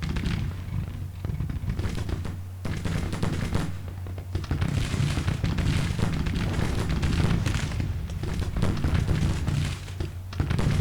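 Cannon and rifle fire in the Grand Tactician: Civil War video game, with plains rifles in service, forming a dense, continuous battle din of overlapping booms and crackling volleys, steady and loud throughout.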